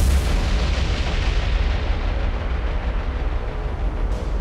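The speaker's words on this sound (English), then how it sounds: "That was a hell of an explosion." HE bombs explode in the naval combat game War on the Sea, set during a Dutch East Indies campaign, producing a loud, sustained low rumbling blast that rolls on steadily, with no speech over it.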